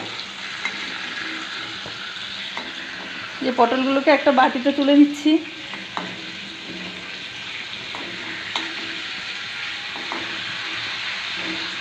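Pointed gourd (potol) pieces frying in oil, a steady background sizzle that flares into a louder crackling burst midway as pieces are lifted out, while someone speaks over it.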